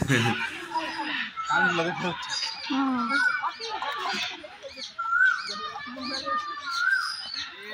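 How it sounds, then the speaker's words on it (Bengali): A cockatoo calls at Alipur Zoo in Kolkata, giving repeated harsh squawks among other birds' cries, heard under a crowd of people talking nearby. "ডাকছে আমাকে, চলে এসেছে কাকাতুয়ার কাছে"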